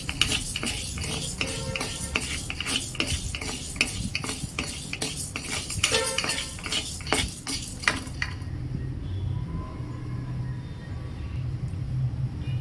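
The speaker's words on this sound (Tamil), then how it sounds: "உளுத்தம்பருப்பு ஒரு டம்ளர் எடுத்துக்கிட்டு அதையும் நல்லா வறுத்து எடுத்துக்கோங்க" Urad dal dry roasting in a pan for idli podi, with rapid rhythmic scraping and clinking of a spoon against the metal for about eight seconds before the stirring stops and only low room noise remains.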